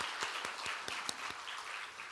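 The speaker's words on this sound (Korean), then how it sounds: "우리 다시 한번 박수로" Church congregation applause at a Christmas service after a children's choir sings, a short, moderately soft burst of many hands with a few sharper individual claps standing out.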